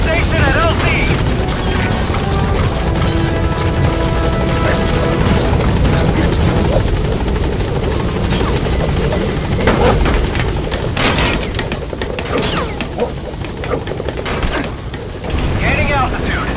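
The Pequod transport helicopter in Metal Gear Solid V arrives at the landing zone, its rotors a loud, constant thumping roar with mechanical clatter and scattered booms throughout.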